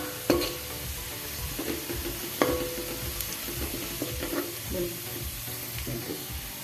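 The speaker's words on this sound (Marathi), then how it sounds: "आणि या कांद्याला तांबूस कलर येईपर्यंत परतून घ्यायचे" Chopped onions sautéing in a pan until reddish-brown, a steady soft sizzle with occasional spatula scrapes and stirring clinks, close and moderate in level.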